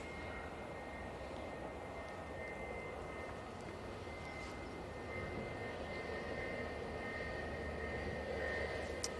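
A Hainan Airlines Airbus A330ceo jet passes with fairly quiet engines, a soft, even hum that builds slightly toward the end, with no voices.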